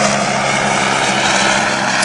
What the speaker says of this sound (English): there's a helicopter going above us